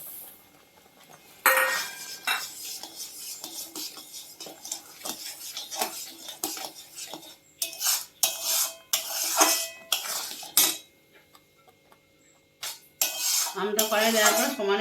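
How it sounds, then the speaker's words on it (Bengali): Ripe mango pulp and sugar being stirred in a metal wok over medium heat to make mango bar, with repeated scraping and clinking of a spoon against the pan in uneven bursts, loud and close, with short pauses. "আমটা কড়াই দেওয়ার পর সমানে এটা নেড়ে যেতে হবে"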